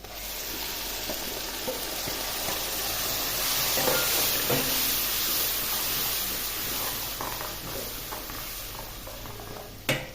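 A steady sizzling hiss of blended tomato paste frying in a hot pan, constant and close, with faint clinks of stirring now and then.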